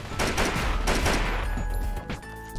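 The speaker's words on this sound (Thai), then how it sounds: "ยิงกันโคตรนัวตรงนี้ ไว้ปืนแม่งแรงชัดเลยนะ" Gunfire from the mobile zombie shooter game Mega Zombie M: dense, loud bursts of rapid shots roll together for the first second and a half, then thin out into a few scattered shots over a lingering electronic hum.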